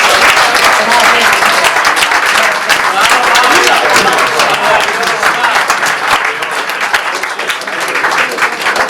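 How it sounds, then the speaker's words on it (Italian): An audience at an awards ceremony breaks into loud, sustained applause, a thick wash of many hands clapping at near-constant intensity for about nine seconds, easing slightly toward the end, with faint voices beneath. "vorrei che tutti quanti voi faceste un bel applauso perché se lo merita"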